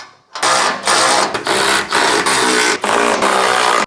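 A power tool whirs in a series of short, loud, close bursts with brief pauses between them while tightening and retorquing the bolts on a rear door carrier.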